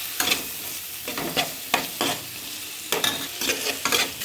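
Tomato sizzles in a pan with fried onion paste while a spatula stirs it in repeated scraping strokes, sharp bursts over a constant frying hiss, for a pointed gourd and prawn curry.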